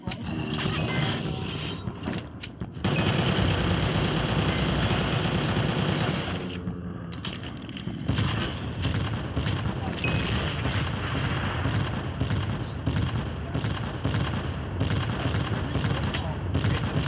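Mortar and gun fire in a modded Minecraft guns game rattles in dense bursts and booms, loud and continuous after a short pause, with a player talking over it.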